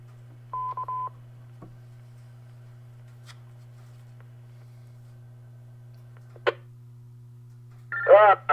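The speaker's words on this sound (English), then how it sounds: "My phone's ringing now." A telephone gives a short beep tone early, followed by a quiet stretch with a steady low hum, then a brief electronic ringing burst near the end and a louder trilling ring at the close.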